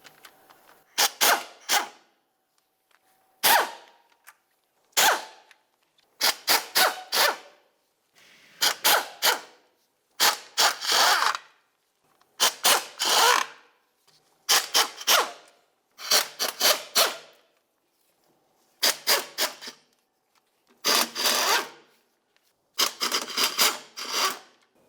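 Ratchet work removing transmission oil pan bolts on a 1998-2002 Lincoln Navigator, repeated short bursts of raspy clicking separated by brief pauses, close and fairly loud, with no talking.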